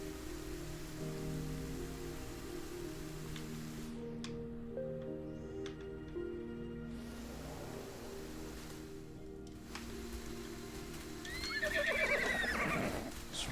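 In the video game Everything, a horse whinnies with long pitched calls over a continuous rain-like ambient bed, followed by a louder bright neigh near the end, with no talking.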